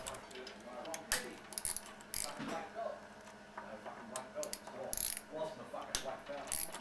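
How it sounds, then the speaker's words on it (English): A hand tool works the fork leg pinch bolts on a Moto Guzzi Centauro motorcycle, giving irregular ratcheting clicks and sharp metallic ticks in short bursts, close by in a quiet workshop. "Now loosen the two pinch bolts located at the bottom of each fork leg."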